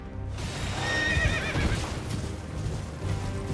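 A horse in the video game Elden Ring gives a loud, close whinny, followed by trailing breathy snorts and soft hoof clip-clops over a low game ambience.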